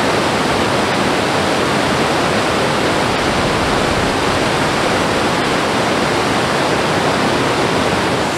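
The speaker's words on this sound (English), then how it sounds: "I finally made it to the waterfall, the Wier, even" Water pours steadily over the weir at Monsal Head, a loud, unbroken broadband rush like a close waterfall, with no voices or other sounds breaking through.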